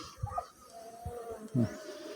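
Honeybees buzz at a beehive during a swarming split, a faint, intermittent hum with a few closer passes rising briefly above a quiet background.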